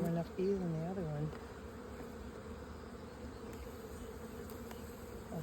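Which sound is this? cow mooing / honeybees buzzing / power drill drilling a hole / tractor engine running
honeybees buzzing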